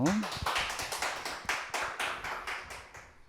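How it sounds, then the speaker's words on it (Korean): A small audience claps to welcome a doctor introduced at a pastors' forum, a sparse, fairly faint run of distinct individual claps at an uneven pace. "박수로 맞이해 주십시오."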